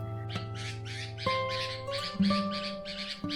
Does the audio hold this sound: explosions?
no